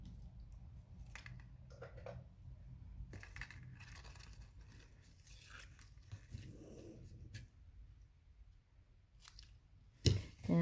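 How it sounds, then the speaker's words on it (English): Scissors snip through the ribbon tails of a treat bag in a few soft, close cuts, faint against a quiet tabletop background. "we're going to cut the tails nice and clean."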